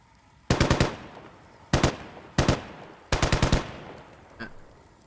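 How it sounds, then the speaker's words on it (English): BTR armored vehicles fire in a video game: four separate bursts of rapid automatic gunfire, crisp and fairly close, spaced across a few seconds, followed by a fainter single report. "The BTRs are already taking a shot."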